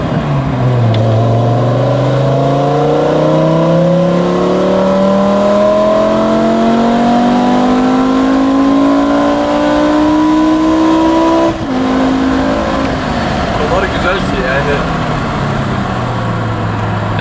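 A BMW M6 (E63) engine, 507 horsepower, revs up steadily from low to high, its intake roar rising in pitch for several seconds, then drops back and climbs again, loud and close.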